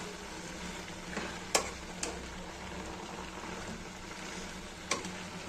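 Carrot halwa simmering in milk in a pan is stirred continuously: a soft bubbling hiss with a few sharp spoon scrapes and knocks against the pan, close and alone.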